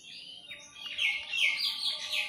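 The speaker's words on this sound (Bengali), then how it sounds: "এই যে পায়রার বাচ্চাগুলো এইখানে রয়েছে" Pigeon chicks give a string of thin, high chirps, several rapid peeping calls in uneven bursts, close and fairly quiet against a low background murmur.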